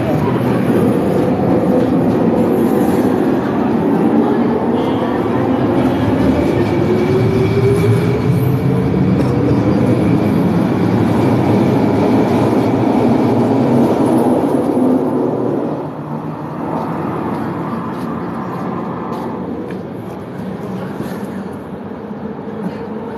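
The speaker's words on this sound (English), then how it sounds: "Oh no, I missed the train." A train pulls away from a station, a loud close rumble of rolling wheels and cars that fades after about fifteen seconds, leaving a quieter distant hum.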